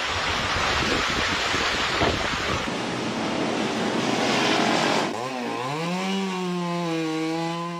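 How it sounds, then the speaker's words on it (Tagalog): Strong wind roaring and gusting through a super typhoon at night, loud and continuous, with a heavy rush like driving rain and surf, later joined by a tonal whistle as the gusts peak. "sumisipol na ang hangin at bumuhos na ang malakas na ulan."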